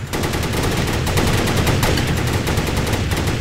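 Rapid anti-aircraft gunfire in Minecraft, a dense continuous rattle of shots that fills the whole moment, loud and close with no pause.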